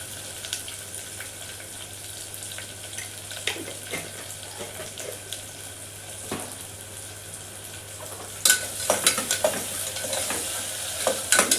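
Chopped onion sizzles in a pan with salt added, a steady frying hiss with occasional stirring scrapes, louder near the end.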